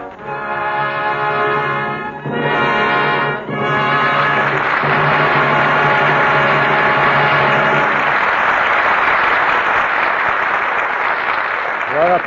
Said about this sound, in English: Your applause is a command